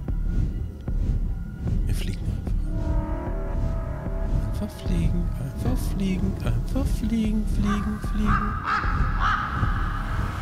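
Crows caw repeatedly in the Rise of Insanity video game, harsh calls stacking up and growing busier toward the end over a low throbbing ambient hum.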